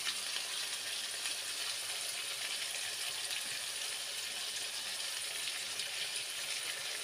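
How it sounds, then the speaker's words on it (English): Onions, tomatoes, ground garlic and curry frying in a pot, a steady close hissing sizzle that holds evenly throughout with no talking. "We are only just going to stir and allow the onions, the tomatoes, and the ingredients to fry."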